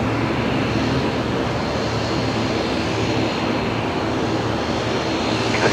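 A Dash 8 turboprop airliner, just back from Gladstone, rumbles steadily at Brisbane Airport, a continuous broad engine roar held at even loudness throughout with no voices.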